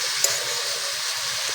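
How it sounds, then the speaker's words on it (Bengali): Cabbage stir-fried with spices in a pan, a steady close sizzle and frying hiss with soft stirring scrapes running throughout, with no talking. "কপিটা মশলার সঙ্গে ভালো করে নেড়ে ছেড়ে নেব।"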